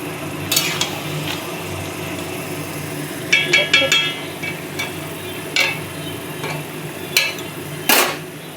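Chicken frying in a pan in a home kitchen, a continuous sizzle broken by several sharp metallic clinks and scrapes of a spatula against the pan.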